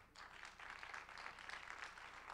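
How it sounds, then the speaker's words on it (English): Applause from an audience at a web developers' meetup after a talk, soft and distant continuous clapping, brief and faint. "Well, let's give another huge applause to Wendy."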